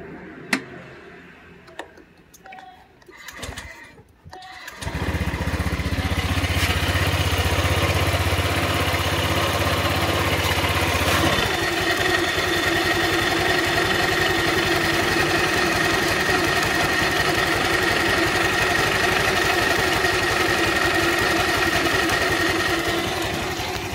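Honda Vario scooter engine fires up after a few faint clicks and handling noises, then settles into a steady, loud, close idle that holds to the end with no talking.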